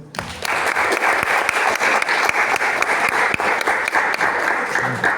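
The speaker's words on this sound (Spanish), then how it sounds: "quisiera un gran aplauso para mi colega y amigo Diego González" Audience applause at a cultural center event honoring a painted guitar artist, a steady, loud burst of many hands clapping that holds for several seconds with sharp individual claps standing out.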